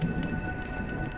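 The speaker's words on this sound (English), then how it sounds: "When will this rain ever stop?" Rain falling in the video game Honkai Star Rail, a soft, steady patter with a faint tonal hum underneath, short and unbroken with no voices.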